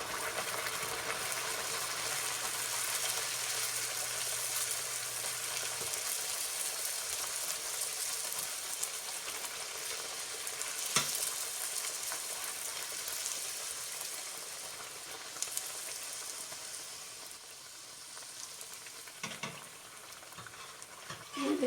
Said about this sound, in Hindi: ऑयल अच्छी तरह गर्म करके फिर इसको मीडियम आंच पे रख के हम ये पूरी रखते हैं।